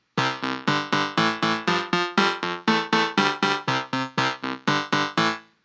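Twinkle Twinkle Little Star plays backwards as a retrograde melody in a Song Maker music tool, with about seventeen even, separate synthesized notes in a steady rhythm and no voices.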